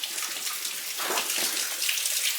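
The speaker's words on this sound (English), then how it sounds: "there must be something there because there's water running down" Water running and trickling down inside an old mine stope, a steady close wash of flow with splashy, drip-like texture that swells slightly midway, continuous with no voices.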